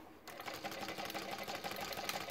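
Tacsew GC6-6 industrial sewing machine running steadily at its longest stitch setting, a fast continuous mechanical clatter that starts after a brief pause and stays loud and close throughout.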